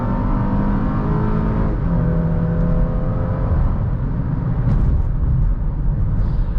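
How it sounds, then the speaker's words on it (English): A 2020 Acura MDX VTEC engine pulls hard while accelerating on a highway, its rising whine shifting pitch through gear changes over steady road and wind roar, close and loud with no talking. "Listen to that VTEC."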